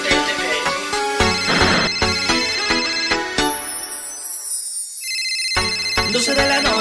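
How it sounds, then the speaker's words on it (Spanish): A mobile phone ringtone plays as part of a reggaeton track, a bright, repeating electronic melody that cuts out briefly and returns over the beat. "suena mi celular"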